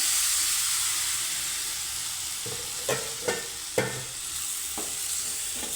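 Bitter gourd frying in a pan over a medium flame, with a steady close hiss and sizzle throughout and a few sharp stirring knocks near the end.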